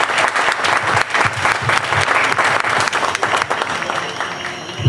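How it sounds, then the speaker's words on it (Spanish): Dense, loud audience applause fills the hall for a young fifth-place competitor at a Desafío de Batalla 2013 event, steady clapping with crowd noise throughout. "se merece el aplauso de ustedes y las felicitaciones nuestras"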